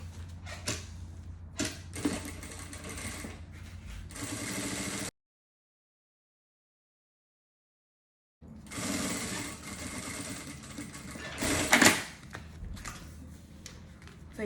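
A sewing machine stitches a necessaire, its fast mechanical whirring running steadily, breaking off into a few seconds of silence, then resuming with a brief louder clatter.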